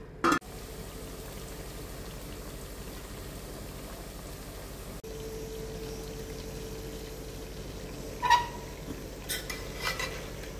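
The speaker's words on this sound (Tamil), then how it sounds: "நம்ம நடுவில் கிளறி விட்டுக்கலாம்" Stirring chicken fry in a pot over a medium flame, a steady low cooking hiss with a few soft scrapes and clinks of a spoon against the pot near the end.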